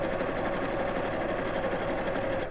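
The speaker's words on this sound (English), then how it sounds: "we're just going to sew all the way around the edge" A sewing machine runs continuously while topstitching around the edge of a fabric piece, a steady close whir with fine rapid needle ticks and no pause or talking.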